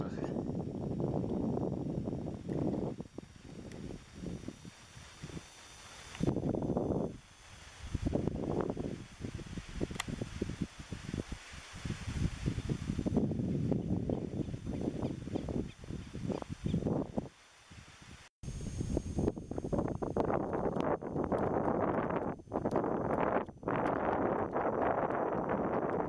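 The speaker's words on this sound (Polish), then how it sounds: "Jak wieje wiatr ciepłym powietrzem." Gusty wind buffeting the microphone outdoors at Cabo Polonio, rising and falling in loud rumbling waves throughout, with brief lulls.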